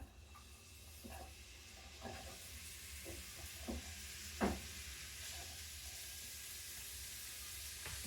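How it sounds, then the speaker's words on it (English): Vegetables sweating in a warm pan on moderate heat for turkey stroganoff, giving a soft steady sizzle with a few faint clinks of stirring, one sharper clatter midway, and no talk. "those veggies hit the pan for the turkey stroganoff"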